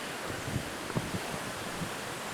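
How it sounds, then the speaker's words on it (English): Waterfall pouring below an old mill house beside a covered bridge: a steady broadband wash of falling water, distant and continuous, with faint wind and occasional soft thumps. "That's actually the waterfall down there."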